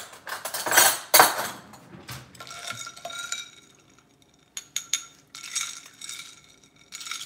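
A spoon stirs food in a pot, giving a few scraping clinks and metallic taps in short bursts separated by quiet pauses, fairly close.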